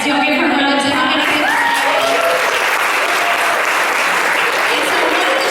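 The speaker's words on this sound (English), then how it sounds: "Yes, you'll give her a round of applause." An audience at a leadership academy session gives Nora a loud, dense round of applause, with voices talking over the clapping throughout.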